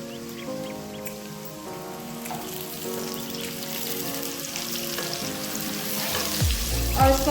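Finely chopped onion sizzles steadily in a pan with ginger and garlic for aloo gobi, a dense crackling fry that grows louder near the end with a clatter of stirring.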